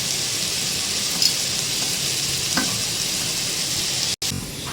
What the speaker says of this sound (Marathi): छान परतून घेऊया आपण।